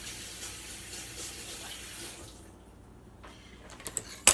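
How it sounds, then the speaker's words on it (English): Sticky hands, covered in pineapple juice, are rinsed under a running water tap: a steady close splashing stream that stops partway, followed by a few faint clinks and a final clatter. "Now I'm gonna rinse my hands because I've got pineapple juice all over and it's sticky."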